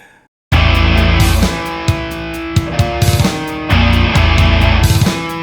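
Heavy, distorted electric guitar riff played through the Frankencab cabinet (Hesu Demon and DV77) with added reverb. It starts abruptly after a brief quiet moment, with loud chugging palm-muted hits and ringing chords repeating in a tight rhythm, and there is no talking.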